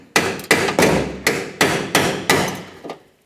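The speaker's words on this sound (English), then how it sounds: "Now with your chisel and a hammer." Sharp metallic strikes of a hammer driving a chisel into door rivets on a 1992-1996 Ford F-150, seven evenly spaced close blows over about three seconds, the last one softer, no voices.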